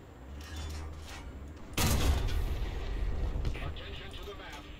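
A StuG assault gun fires once in a tank video game, a single loud blast with a long rumbling tail, over steady low engine rumble and background game noise.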